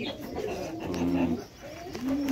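Danish pigeons coo close by on a pigeon farm in Taherpur, Bagmara, Rajshahi, where the birds are kept on top of baskets; two soft, low, throaty coos sound one after the other.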